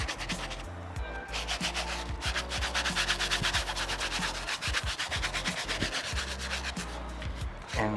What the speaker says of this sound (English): We're just gonna clean the sides and not really hit on the outsole here.